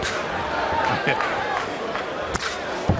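A boxing arena crowd grows restless, a dense rumble of murmurs and calls with a couple of sharp thuds, while a commentator talks over it.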